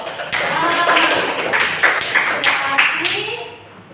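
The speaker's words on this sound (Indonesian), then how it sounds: "tepuk tangan untuk Ainul" Classroom applause for a student named Ainul during an Indonesian lesson, a short burst of claps from a small group of students lasting a few seconds before fading, with some voices mixed in.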